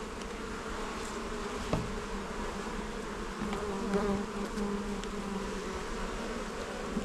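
Honey bees buzz steadily around an open beehive during an inspection, a dense continuous hum from a nearby swarm with a brief knock partway through and no talking.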